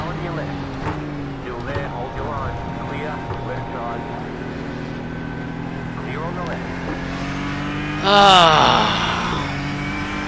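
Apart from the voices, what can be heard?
race car engine in iRacing video game at Watkins Glen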